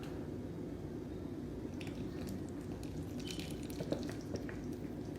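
Wet waffle batter is poured into a bowl of flour, giving faint soft drips and gloopy squishes close by over a quiet background, with no talking.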